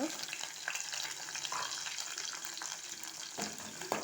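Onions and green chillies sizzle in hot oil in a pan, a dense steady crackle with intermittent scraping stirs and a knock or two near the end, heard up close with no talking.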